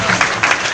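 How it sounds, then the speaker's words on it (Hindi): Loud, dense applause from an audience at a Qafila competition prize-giving, a steady wash of clapping with a few sharper swells, filling the whole brief moment. "जोरदार ताली बजाइए।"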